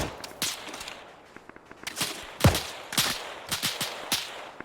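Suppressing gunfire in the military shooter Arma 3 cracks out as rapid single shots and short bursts, sharp and fairly loud, with echoing tails and one heavier nearby blast in the middle.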